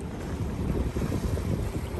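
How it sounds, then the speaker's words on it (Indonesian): Fresh wind gusts during a daytime roadside stop on Sumbawa island, buffeting the microphone in a steady low rumble with slight surges and no voices. "menikmati tiupan angin yang segar"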